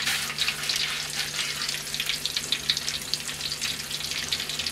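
Chicken fillet rolls frying in very hot oil, a dense, continuous crackling sizzle with rapid spitting pops, close and steady, no talking.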